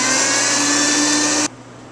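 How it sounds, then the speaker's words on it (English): Ice crushed for a mint julep in a loud electric crusher or blender, a steady, harsh grinding roar lasting about a second and a half before cutting off abruptly to quieter room noise. "We're going to start by crushing some ice."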